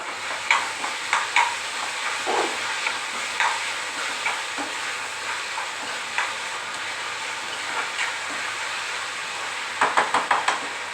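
Onion and tomato cook over a high gas flame, a steady sizzle and hiss with scattered clicks and scraping stirs, a cluster of sharper knocks near the end, and no talking.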